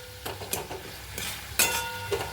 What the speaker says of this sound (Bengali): এবারে ভালো করে খুন্তি দিয়ে নাড়াচাড়া করে দিচ্ছি।